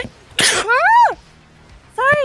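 A sharp, close sneeze bursts out, followed at once by a drawn-out vocal sound and a second voiced exclamation; a person speaks briefly afterward.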